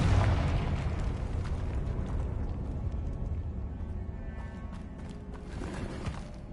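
A Confringo explosive spell goes off in the Hogwarts Legacy video game, a loud booming blast with rumbling low-end that decays into a sustained crackling wash and scattered bursts.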